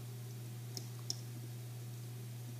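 Computer keyboard arrow keys pressed while editing in Inkscape, two faint isolated clicks over a steady low electrical hum, with no talk.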